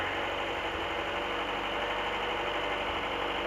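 A Honda car engine idles steadily just after a jump start with a portable booster, a continuous low mechanical hum with a faint regular pulse, close and even, with no talk.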